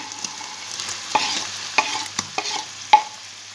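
Onion sizzles softly in a pan while a utensil scrapes and clacks against it in irregular stirring strokes, close by.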